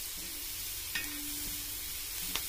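Onions fry gently in butter in a pan, a quiet, even sizzle with a couple of brief utensil taps and scrapes, no voices.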